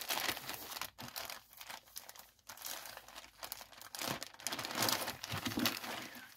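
Paper packing crinkles and rustles in irregular bursts inside a package, with short pauses between handfuls, close by and fairly quiet.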